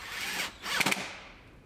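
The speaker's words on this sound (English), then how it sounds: "Put screws in it." A power drill drives screws into the fender molding of a Lincoln MKT, with a loud close whir in two bursts broken by a short pause, then winding down.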